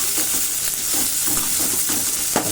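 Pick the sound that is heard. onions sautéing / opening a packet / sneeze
onions sautéing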